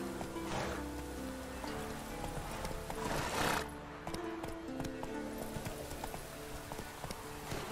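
Hooves of the horse Roach in The Witcher 3 video game clop steadily at a gallop amid game music and ambient rain, moderately loud throughout with a brief surge midway.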